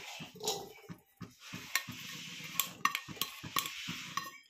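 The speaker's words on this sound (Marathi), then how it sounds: "आता आपण हे सगळं एका भांड्यात मिक्स करून घेऊया।" Corn fritter batter of sweet corn, rice flour, gram flour, onion and spices is mixed in a bowl. A utensil clinks and scrapes against the bowl in irregular close strokes with soft wet stirring between them.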